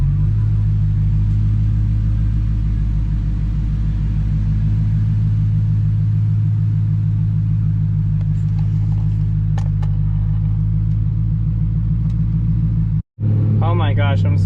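A yellow BMW E92 drives along with a steady low engine rumble and road drone, close and fairly loud throughout, before a brief cutoff and a burst of a person speaking near the end.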